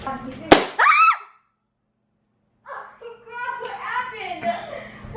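A balloon bursts with a single sharp, loud pop close by during home cooking, followed at once by a child's startled cry, then a pause and excited voices talking.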